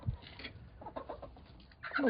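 Young roosters crowing in a small backyard farm poultry yard, a couple of short, rough calls breaking out among quieter bird clucks and rustling, the loudest crow bursting in near the end.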